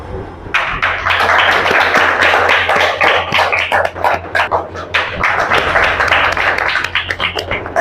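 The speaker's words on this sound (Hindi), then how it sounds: "इनके लिए भी जोरदार तालियों से हम स्वागत हैं।" Enthusiastic applause welcomes a student at a school board exam results celebration, dense rapid clapping from a crowd that begins abruptly and continues loudly throughout.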